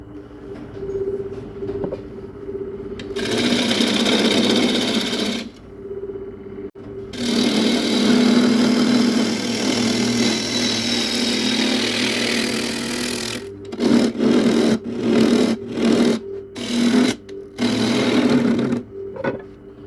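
A wood lathe spins an old, cracked apple wood bowl blank while a tool cuts it, giving a steady loud hum and scraping that stops and restarts, then breaks into rapid intermittent cuts near the end.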